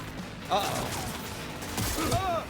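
A couple of sharp sniper rifle reports ring out in Cyberpunk 2077, one near the start and another near the end, set against game ambience with a player talking over them.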